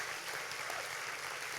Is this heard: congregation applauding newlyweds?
yes